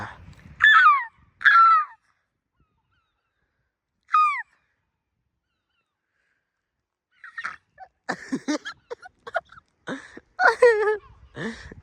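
A voice imitates seagull calls, giving several short, rising cries in bursts near and clear against silence, then breaks into talk and more gull-like squawks.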